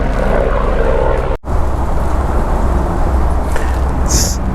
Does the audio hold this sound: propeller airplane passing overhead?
yes